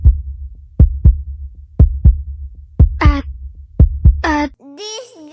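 Heartbeat sound effect in a song, a loud, close double-thump pulse repeating at a steady rhythm, joined by a few short high synth chirps and a voice-like melodic tone at the end.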